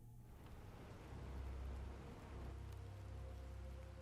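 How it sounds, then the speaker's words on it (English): Steady, soft rainfall in the video game Planet Crafter, with a constant hiss and low rumble, fairly faint, with no voices. "Hear the rain."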